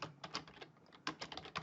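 Quick bursts of typing on a computer keyboard while writing macro code, close and fairly quiet, with irregular clusters of key clicks and a short pause in the middle.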